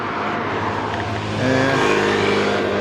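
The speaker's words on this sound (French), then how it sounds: "Là, il y a un scooter qui vient de passer" Scooter passing by on a street, a steady motor hum that swells louder midway as it goes past nearby, with no talking.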